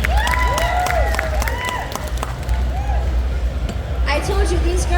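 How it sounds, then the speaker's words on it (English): An audience at a pinup pageant at a New England tattoo expo applauds, with whoops and whistles over steady crowd noise. "Rounds of applause for Miss Cherrybomb."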